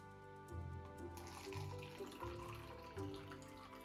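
Water pours from a bottle into a cup, a steady liquid stream running for several seconds with a continuous gurgling splash, close and moderately loud, no talking.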